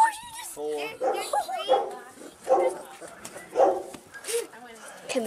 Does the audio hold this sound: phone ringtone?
no